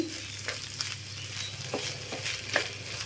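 Potato filling for aloo puri is stirred with a spatula in a pan over medium gas flame, giving a steady low sizzle broken by several soft scraping strokes, with no talking.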